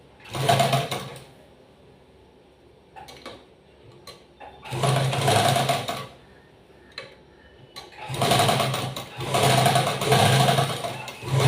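Lockstitch sewing machine joining a garment's shoulder seam, running in three loud bursts of steady mechanical whirring separated by short quiet pauses with faint clicks.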